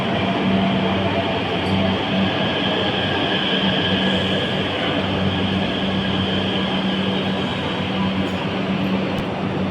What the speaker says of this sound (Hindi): ये देखिए हमारी ट्रेन आ गई।